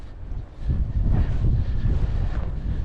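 Wind buffets the microphone outdoors during a falconry flight with a juvenile red-tailed hawk, making a steady, loud low rumble throughout with no voices.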